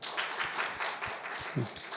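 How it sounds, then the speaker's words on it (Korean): A church congregation at a Friday night worship service claps to welcome visitors, a moderately loud patter with rhythmic, pulsing claps and a brief voice near the end. "박수 한번 크게 쳐줘요."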